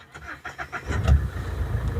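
A Mahindra Scorpio S4+ SUV engine with about 94,000 km on it starts and settles into a smooth, steady low rumble. Brief faint voices come first, then the engine noise builds and holds.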